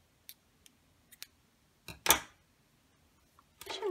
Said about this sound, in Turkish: Ve ipimi kesiyorum.